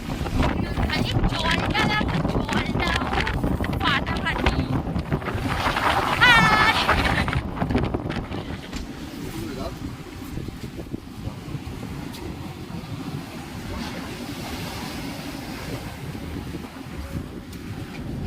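High-tide sea waves surging and splashing close by on a windy shore, heavy wind buffeting the microphone, with someone talking over the continuous rush of water.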